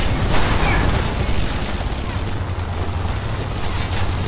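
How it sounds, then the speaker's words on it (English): Gunfire and explosive booms from the open-world shooter game Red Faction: Guerrilla, a dense, continuous barrage of shots and low rumbling blasts at steady loudness, with a brief sharper crack near the end; a voice talks over it. "Can you please leave me alone and stop shooting at me?"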